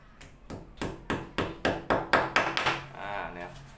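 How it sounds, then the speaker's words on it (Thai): Plastic wall anchors hammered into holes drilled with a rotary hammer drill: about nine sharp, evenly paced knocks, close and loud, that crowd together and tail off toward the end. "ตอกพุกกันก่อนให้เรียบร้อย"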